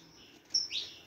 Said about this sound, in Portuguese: Tô utilizando a capa, galera, porque o Akuma ele é um canário meio assustadinho